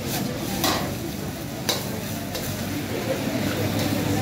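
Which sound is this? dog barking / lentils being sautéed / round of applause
lentils being sautéed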